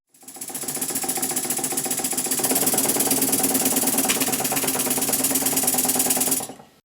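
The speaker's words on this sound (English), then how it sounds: "the engine runs. The timing's not right." A model steam engine running on compressed air with badly set valve timing, a rapid, steady mechanical chuffing and clatter, loud and close. It holds an even rhythm throughout, then stops abruptly.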